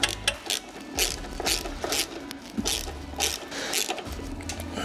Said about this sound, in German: Schrauben wir das kurz hier ran.